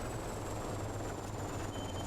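A steady low rotor thrum from a helicopter in Operation Flashpoint hovers in the background, continuous and moderately distant, with a faint high whine above it.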